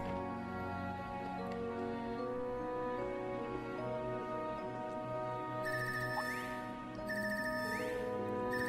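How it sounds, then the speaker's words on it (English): Faint electronic phone ringtone chimes in repeating bursts over a layered synthetic background hum from Trails of Cold Steel 3, with no talking. "This ringtone. I haven't heard this one before."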